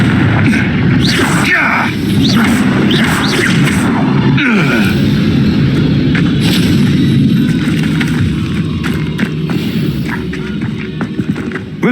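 The Confringo blasting spell in Hogwarts Legacy goes off as a loud explosive boom, then a rumbling, crackling mix of combat noise and effects fills the rest.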